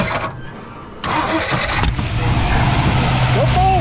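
A 1957 Ford Fairlane 500 with a 312 V8 cranks and catches, a sudden loud start after a brief starter whir, then settles into a rough, rumbling idle close by while people talk over it.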